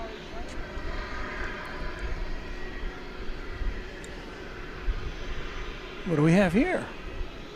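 A Cessna Super Cargomaster, a single-engine turboprop inbound from Wichita Falls, Texas, arrives at DFW airport at night as a steady, fairly distant engine drone, with a voice speaking briefly near the end.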